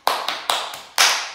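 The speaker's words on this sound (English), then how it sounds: "give me a little clap" A small hand clap repeated four times in an irregular rhythm, sharp and close, each smack with a short decaying tail, alone with no talk.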